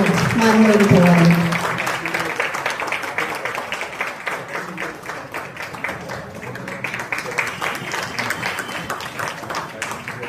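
Applause for two young Kuchipudi dancers after their first performance, steady clapping from the audience that fades gradually, with a short burst of voice and a tonal sound at the start.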